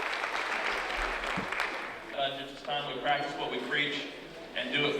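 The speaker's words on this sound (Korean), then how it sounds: "회의 도중 느닷없이 터진 박수" Sudden applause breaks out across a Michigan state Senate chamber during a legislative session, a dense wash of clapping that fades after a couple of seconds as a voice begins speaking.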